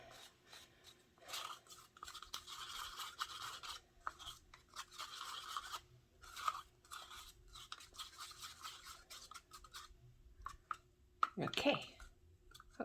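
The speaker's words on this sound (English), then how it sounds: "Get a little stirry stick. Mix that in together. Mix it well." A small stir stick mixes a mixture in a container with faint, irregular scraping and clicking strokes that come in short bursts. Soft talk is heard under it.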